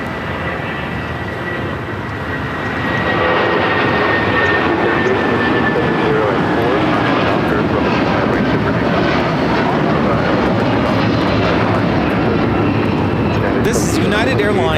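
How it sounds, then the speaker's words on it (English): A United Airlines Boeing 757-200 jet taking off at LAX, its engine roar swelling after a few seconds into a loud, sustained rumble. A voice speaks partway through. "This is United Airlines 2728 taking off to Newark on the 757-200."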